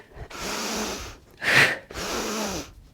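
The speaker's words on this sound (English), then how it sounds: "that forceful exhale through the mouth" Forceful yogic breathing, a deep nasal inhale followed by a sharp exhale through the mouth, then another long breath; close, breathy and alone, three distinct pulses with the middle one loudest.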